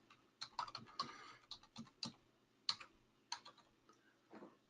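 Quick bursts of computer keyboard typing, entering text at a test machine during a software demo; irregular clusters of crisp clicks, close and fairly quiet, with no talking.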